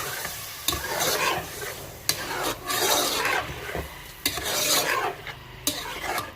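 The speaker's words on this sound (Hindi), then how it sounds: "और इसे मैं थोड़ा हिलाऊंगी, मिक्स करूंगी।" A spoon stirs garlic ginger paste in a cooking pot, giving repeated rasping scrapes and gentle sizzling in uneven strokes, close and fairly loud, with no talk.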